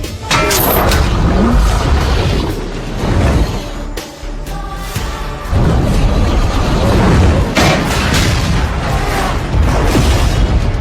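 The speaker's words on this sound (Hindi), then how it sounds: "एक जोरदार धमाके के साथ सान बियाओ और विमान का मलबा राख में बदल गया।" Loud booming blasts and crashing debris fill the clip as a gas cylinder and aircraft wreckage explode in a video game, with a heavy rumbling explosion that dips briefly before surging again.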